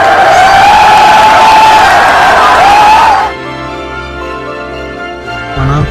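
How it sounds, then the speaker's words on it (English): Irish fans cheer and roar loudly in a Las Vegas arena, a dense crowd with a sustained whistle-like whoop for about three seconds, then dropping abruptly to a quieter crowd murmur before swelling slightly at the end. "Well, here we are in Las Vegas, Jay, and you know the Irish fans are overwhelming the American crowd."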